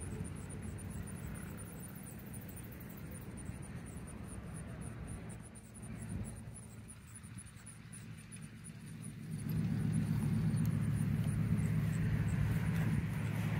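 An old private propeller plane taxis onto a runway, heard as a steady distant engine drone and rumble that swells louder near the end, with a faint high whine running throughout and no talking.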